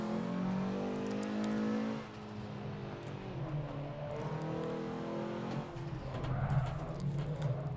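A Dodge Omni's engine revs hard in Forza Motorsport 7 as the front-wheel-drive car spins its wheels, a steady buzzing drone with shifting pitch that drops briefly and climbs again.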